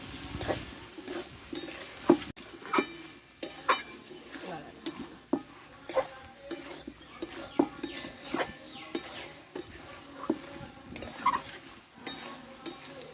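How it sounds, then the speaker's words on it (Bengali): A spoon stirs Malabar spinach curry with fish and mixed vegetables in a pot, scraping and clinking in irregular strokes over a faint simmering sizzle, close and moderately quiet, with no talking. "একটু কিছুক্ষণ নাড়াচাড়া করে আমি নামিয়ে দেবো"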